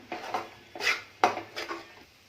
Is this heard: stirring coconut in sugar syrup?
yes